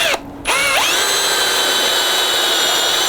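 A power drill whines steadily at close range, briefly dipping and then spinning back up into a sustained high-pitched drone as it bores through persimmon wood held in a lathe.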